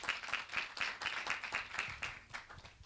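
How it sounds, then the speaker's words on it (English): An audience at a business summit claps together in a steady, even round of applause that carries on without a break, slightly distant, with no voices over it. "let's give them a round of applause"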